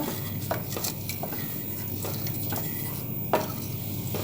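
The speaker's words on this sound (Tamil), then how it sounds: "ஊற்றி நல்லா கிண்டி விட்டுக்கோங்க" A utensil scrapes and knocks against a metal pot while an akkaravadisal mixture with added water is stirred, with a few sharper clinks standing out over a steady background hum.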